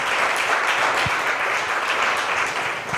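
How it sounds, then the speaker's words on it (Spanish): A church congregation claps for the Lord after a sermon point, a dense and steady round of applause that holds at an even level for about three seconds with no talking. "Denle un aplauso al Señor por eso"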